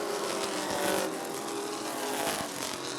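Sportsman race cars roar around the Rockford Speedway oval in a heat race, engines loud and continuous with a steady broadband drone that swells slightly as the pack passes.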